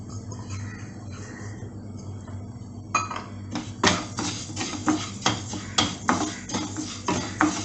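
Rice goes into a metal pan for roasting, first a faint rattle, then regular clinks and scrapes of a utensil against the pan in a steady rhythm.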